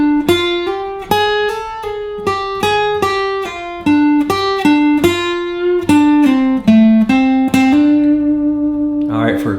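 An electric guitar plays a minor blues scale lick, a quick run of plucked notes with a slight bend, each note sharp at the attack and ringing, moving up and down before settling on a final held note.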